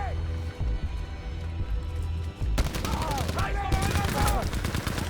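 Rapid gunfire bursts from a first-person shooter, Battlefield V, crackle loudly in the second half after a quieter stretch of game sounds, with overlapping shots and whistling effects.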